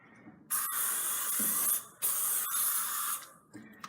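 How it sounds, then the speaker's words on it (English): A spray can blasts dust away in long, loud hissing bursts, three sustained sprays separated by brief pauses, close to the microphone with no speech. "So we just continue spraying as such."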